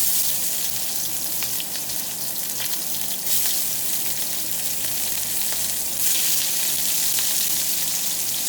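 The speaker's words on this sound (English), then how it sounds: "So now to our oil. I want to go ahead and add the chili." Chili dropped into hot oil for tamarind duck sizzles and crackles loudly and steadily, a close frying hiss with brief louder bursts.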